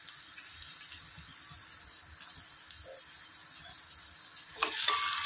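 Onion and curry leaves frying in a pan give a soft, continuous sizzle at low level, with a brief louder burst of crackle and hiss near the end and no talking.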